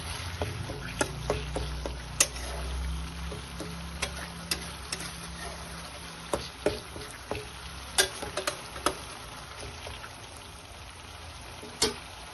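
Cauliflower stalks being stirred in a pan, with intermittent scraping clicks and taps of a spoon over a low, steady background hiss, spread irregularly across the stretch with no talk.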